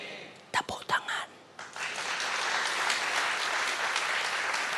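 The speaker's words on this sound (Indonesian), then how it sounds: "Tepuk tangan." Congregation in a Christian church service breaks into applause, a few scattered claps first, then a sustained, dense wash of clapping from many people filling the room.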